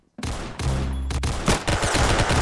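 Rapid bursts of gunfire in a shooter video game, like a gun-game mode, with dense overlapping shots and loud sustained automatic fire throughout, no talk.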